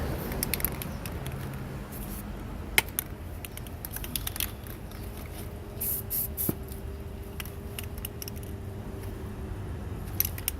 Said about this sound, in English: Make sure you shake it up real good and then spray the whole area with primer.